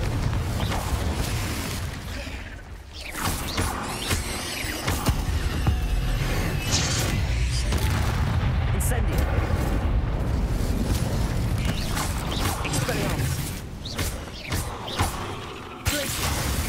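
Magic spells from the Hogwarts Legacy video game, a fire spell and an explosive blast spell, burst out in a dense, continuous run of booms, crackles and impacts over game combat noise, with no clear pause.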